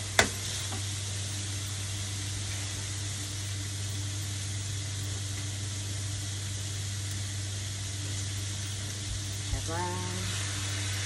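Cabbage and carrots stir-frying for homemade yakisoba over lowered heat, a faint, even hiss of frying with a low steady hum beneath and a few soft clinks, heard alone without talk.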